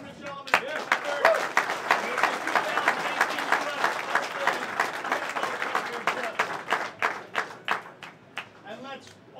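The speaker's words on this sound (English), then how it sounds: "Ladies and gentlemen, we have a nice round of applause for Mitch Ellerman." Audience applause for pool player Mitch Ellerman at a US Open 10-ball semi-final, brisk clapping from a modest crowd that swells, then thins into scattered individual claps near the end.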